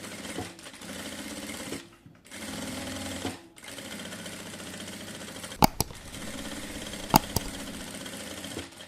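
A sewing machine stitching a neckline design on fabric, running in close bursts of rapid mechanical chatter with short pauses and a few sharp clicks between runs.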